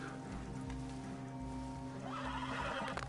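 A horse in the video game Red Dead Redemption 2 gives a loud, drawn-out neigh while hooves clip-clop in a galloping rhythm, close and continuous over a low game backdrop.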